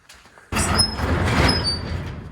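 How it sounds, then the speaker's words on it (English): A workshop door is forced open with a sudden scraping, rumbling slide and a few metallic squeaks, close and fairly loud after a quiet start. "Let's see if I can get this door open."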